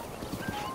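Horse hooves clip-clopping as a horse is ridden in the video game The Legend of Zelda: Breath of the Wild, a steady close rhythmic patter over a soft game ambience, with no voices.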